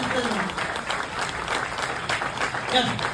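Many hands keep clapping at a business-plan meeting, the steady crowd applause holding throughout with a voice briefly heard over it near the end.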